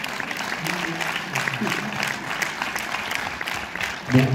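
Applause from an audience at a film premiere screening in Orléans, a steady dense clapping that holds throughout, with voices rising near the end.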